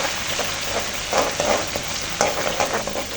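Cumin seeds sizzle in a hot pan for chana dal, a steady close crackle and fizz with small popping bursts and light stirring scrapes, no talking over it.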